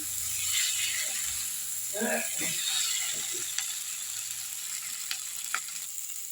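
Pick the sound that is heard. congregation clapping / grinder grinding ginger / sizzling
sizzling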